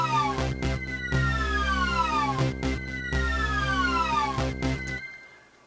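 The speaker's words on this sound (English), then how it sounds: "It's that little siren decreasing sound." A siren sound effect played on a Casio WK-7600/CTK-7200 keyboard: three or four loud tonal sweeps that slide downward in pitch and repeat at steady intervals over a low sustained bed, then cut off and fade away.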